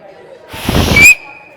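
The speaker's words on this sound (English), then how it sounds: "I just did a dad whistle." A loud dad whistle, a short shrill whistle rising out of a blast of breath during a church staff meeting, close and brief.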